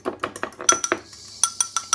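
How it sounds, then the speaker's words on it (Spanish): Egg yolks and whites beaten separately in a bowl for a sweet potato cake: quick rhythmic whisk taps clinking against the bowl, close and bright, with no talking. "Así que voy a empezar a batirlos."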